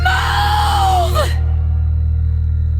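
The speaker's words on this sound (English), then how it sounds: "I screamed." A person screams in terror as a wall of sand gives way and floods a ship's cargo hold: one loud, sustained, falling cry lasting just over a second, then cut off, leaving a steady low rumble.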